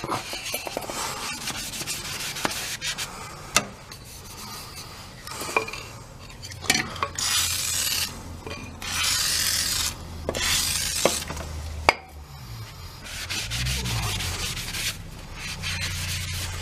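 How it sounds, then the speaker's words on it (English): Sandpaper rubbing along the wooden handle of a hammer being repaired, a steady scratchy abrasion with some sharper knocks and clatter, close and fairly loud throughout. "And that is how you sand your wood."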